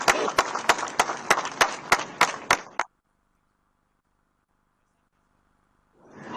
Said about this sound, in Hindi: तो एक बार जोरदार तालियां आप सभी के लिए, पूरी 40s की टीम के लिए।